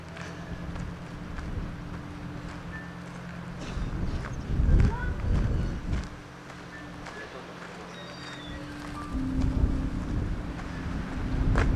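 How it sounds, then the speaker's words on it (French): Wind gusting through an abandoned livestock farm building, setting shutters knocking and creaking in irregular bursts over a low windy rumble, with people talking at times. "C'est glauque, hein, tous ces bruits là. C'est les volets avec le vent."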